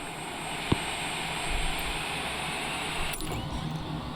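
Steady engine roar from inside a Cessna Citation Longitude business jet rolling for takeoff at Miami International, a constant broadband rush with a brief click near the start and a faint rattle later, with no talk.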